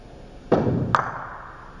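A pool shot: a cue strike followed by a sharp knock as the 2-ball bounces off the rail, two close thuddy impacts over a soft background.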